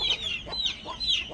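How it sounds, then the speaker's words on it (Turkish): Young chicks in a coop give a few quick, bright descending peeps, close by, in short bursts with small gaps between them. "Ondan sonra yavrular ciyak ciyak ötüyorlar."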